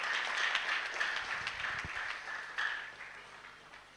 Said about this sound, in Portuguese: Uma salva de palmas pela glória do Senhor.